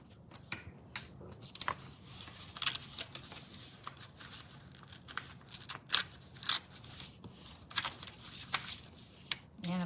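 Scissors snip through paper for a scrapbook page layout, a series of sharp, close crunching cuts in irregular bursts, with brief rustling of paper between them.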